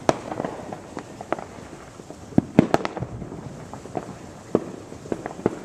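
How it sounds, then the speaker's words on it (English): Independence Day fireworks burst above the trees, a string of sharp cracks and pops of varying loudness at irregular intervals, some close and punchy, others fainter and more distant. "Why pay to go see a fireworks show when the fireworks show comes to me?"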